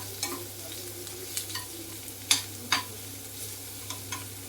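Onions sizzle quietly while frying for a cucumber fry, with a utensil scraping and stirring the pan in a few sharp strokes over a steady low hum, no voices.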